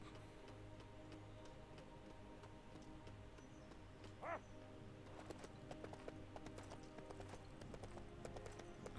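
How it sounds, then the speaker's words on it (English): Horse hooves clopping in the Lego Lord of the Rings video game, a steady run of light, rapid clip-clop beats under quiet game ambience, with one brief whinny-like tone partway through. "And then ride the horse into Helm's Deep."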